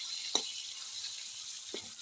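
Pieces of fish fry in hot oil in a wok with a faint, steady high sizzle. Two soft, brief knocks stand out against it, and the scene is quiet overall.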